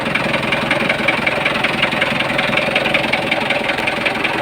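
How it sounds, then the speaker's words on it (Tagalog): A Mitsubishi 4D34T diesel engine runs with a knocking fault, giving a loud, steady close-up idle with a rapid, even rhythmic knock and clatter throughout, no voices. "May knocking sound siya."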